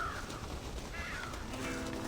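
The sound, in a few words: crows cawing, from video game Red Dead Redemption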